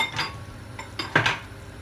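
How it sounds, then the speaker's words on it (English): Chickpeas drop into a pot of Moroccan chicken tagine with dates and almonds, giving a few soft, close clinks and light knocks in quick succession with no talking. "The next thing we do is put in our chickpeas."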